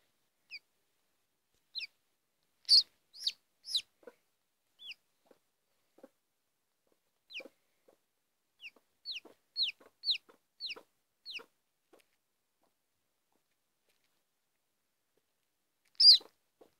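A hen with newly hatched chicks, faint high chick peeps scattered in short clusters with soft low clucks, quiet and intermittent with long gaps.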